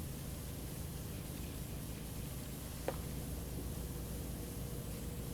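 Steady, even hiss of water spraying from a pressure washer in the video game PowerWash Simulator, continuous and unchanging like white noise, with one brief faint click partway through.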